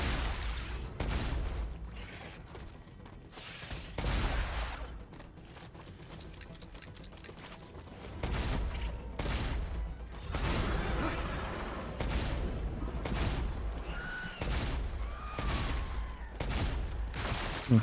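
Rapid gunfire in the sci-fi game StarRupture, dense bursts of repeated shots with brief pauses between volleys, loud and close, continuing throughout.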